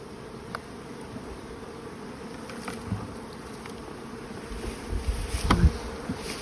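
Steady buzzing from a large honeybee colony in an opened hive built up to ten frames, a constant hum with bees flying close by and passing louder near the end, no voices.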